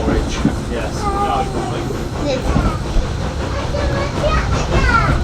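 Steam train on the Bluebell Railway, a rolling carriage rumble with faint clickety-clack running throughout, while people and children chatter close by over the noise.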